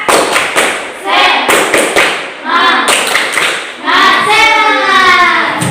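A primary school class in Pintu Kabun claps a rhythmic chant together, bursts of hand claps and children's voices in a quick, patterned beat close to the microphone.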